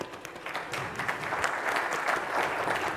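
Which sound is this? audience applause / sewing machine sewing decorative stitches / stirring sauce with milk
audience applause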